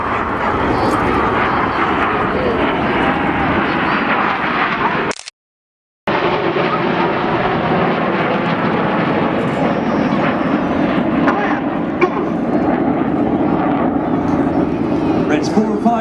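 Display jets of an aerobatic team trailing blue smoke roar overhead at the Rhyl air show, a loud, steady broadband jet rumble that fills the scene and cuts out briefly before resuming, with a commentator talking over it.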